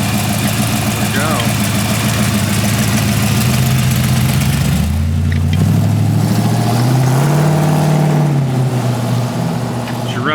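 A 1940 Ford Tudor Sedan Deluxe engine running steadily at idle, a loud low rumble that shifts into a deeper, rising-then-falling drone partway through, with a person talking over it.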